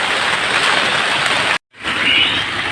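Steady rain pours down during the rainy season, a dense, even hiss that fills the air, briefly cut to silence for a moment before resuming at the same strength.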